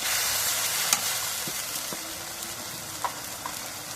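Soybean chunks and duck egg curry with ground ginger and garlic paste get stirred in a pan, giving a steady close sizzle broken by a few soft scraping knocks of the spoon.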